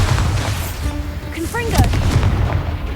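Bombarda blasting spell in the video game Hogwarts Legacy, set in a cave, heavy thumping bursts and crackling impacts layered over dense combat noise and short chirping effects, loud and close throughout.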